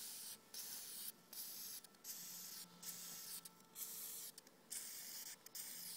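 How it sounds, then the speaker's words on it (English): Repeated short bursts of aerosol storage spray onto the spark plug tips of a 1996 Johnson 150 outboard motor, a close hissing broken by brief pauses, about seven or eight sprays in a row. "I also like to spray a bit of the storage spray on the tips of each of your plugs"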